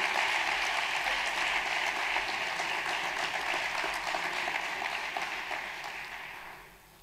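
An audience at a closing ceremony and prize-giving claps in sustained, dense applause that holds strong for several seconds, then fades out toward the end.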